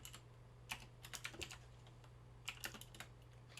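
Fingers type on a computer keyboard in short bursts of crisp clicks separated by brief pauses, close and quiet, with no talking.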